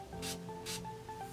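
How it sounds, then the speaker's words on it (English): Two short bursts of setting spray misted onto a makeup sponge, close and hissing, separated by a brief pause. "So what I like to do is I'll actually spray my sponge"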